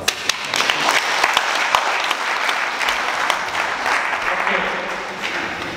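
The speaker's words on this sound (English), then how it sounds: "a round of applause" An audience at a closing session in Central Hall Westminster breaks into warm applause, a dense wash of clapping with a few sharper claps early, holding steady for several seconds with faint voices mixed in.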